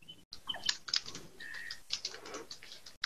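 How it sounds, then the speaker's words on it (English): Someone types on a computer keyboard during an online housing committee meeting, with soft, irregular key clicks, faint and close, with no one talking. "but I'm typing."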